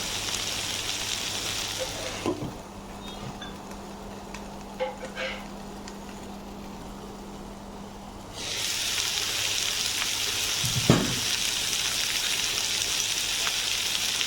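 A beef stir-fry with tomatoes sizzles loudly in a pan, drops to a muffled hiss with a few clatters once it is covered with a lid, then bursts back to a full sizzle.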